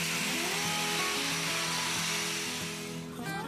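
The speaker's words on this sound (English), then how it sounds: "I clean up the edges with a rotary grinder." Rotary grinder dressing the cut edges of 3.5-inch steel angle brackets, a steady close, loud whining buzz with shifting pitch that eases off near the end.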